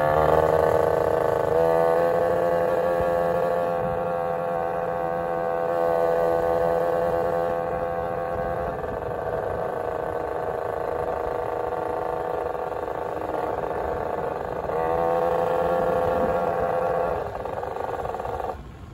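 A Vento Triton R4 motorcycle engine drones steadily through a carburetor tuning pull, its harmonic whine rising and falling with revs over continuous wind and road noise, loud and close throughout.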